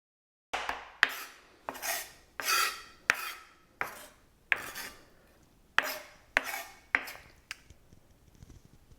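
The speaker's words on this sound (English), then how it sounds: "So you just kind of chop and reorganize and chop and keep going until the bits are small enough." A knife chops spices on a cutting board for a red cabbage coleslaw, giving about a dozen crisp, close strokes in an uneven rhythm with short pauses between them, and no talking.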